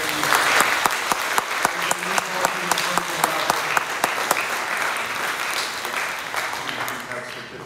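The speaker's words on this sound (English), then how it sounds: "So a round of applause for you." A school audience applauds students at an academic awards event: a broad crowd clapping with a few sharp, close individual claps standing out, a faint voice or two mixed in, and the applause tapering off near the end.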